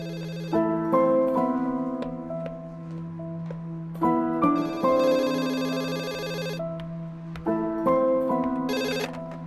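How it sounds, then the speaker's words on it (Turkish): A telephone ringtone sounds in a domestic drama scene, three repeated bursts of a bright melodic ring pattern separated by short gaps, clear and fairly close with no talk over it. "Telefon değil mi?"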